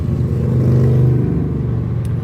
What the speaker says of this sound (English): those are some nice motorcycles